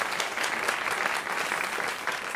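Sustained audience applause at a dinner event featuring Levantine food, a dense steady wash of clapping with no voices over it.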